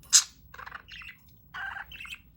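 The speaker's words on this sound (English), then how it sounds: "Cute baby bird." Pet budgie chirping in a quiet room: a sharp high chirp followed by several short bursts of warbling chatter, close and moderately loud, with brief pauses between phrases.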